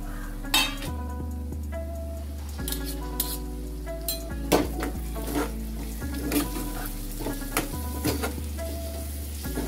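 Onion, ginger, chilli and tomato frying in a pan over a medium flame give off a steady sizzle with occasional stirring scrapes and clinks, while music plays in the background.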